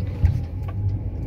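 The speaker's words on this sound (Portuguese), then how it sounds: "Já tô dando uma volta aqui com o veículo aqui." A Ford Fusion drives after its electric power steering module fault U3000 was cleared. From inside the cabin, a low, steady engine and road rumble carries one brief louder thump and no talk.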